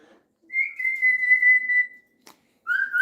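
A pet bird gives a clear, sustained whistle followed by a short pause and a second rising whistle, close and alone in a quiet room.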